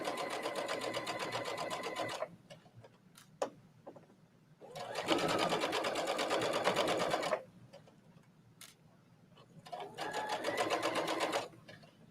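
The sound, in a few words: Brother sewing machine stitching fabric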